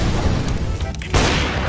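Gunfire in a competitive matchmaking shooter game: a sharp burst of shots near the end stands out above a steady din of game sound and background noise.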